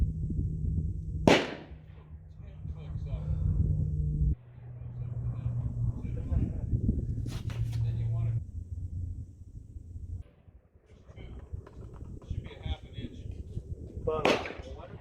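Several sharp gun reports from target shooting at a bottle and a golf ball outdoors, spaced apart in a roughly steady rhythm, with voices talking between the shots.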